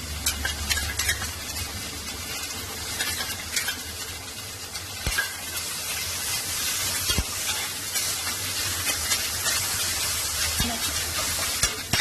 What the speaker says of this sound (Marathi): कांदा आलं लसूण चांगला परतून चांगला झालेला आहे